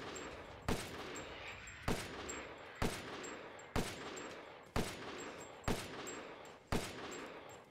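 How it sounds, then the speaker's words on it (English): Gunfire from a handgun in Resident Evil Village: seven sharp, loud shots spaced roughly a second apart in a steady rhythm, each with a short decaying tail over a faint continuous game backdrop, no talk. "That gun shoots straighter than the freaking specialty handgun"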